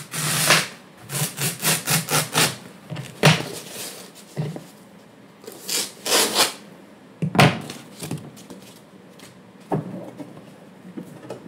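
Hand-sawing or rubbing through a thick piece of material being trimmed while building a 48V rack-mount battery, a series of rhythmic back-and-forth strokes in bursts with pauses, close and fairly loud.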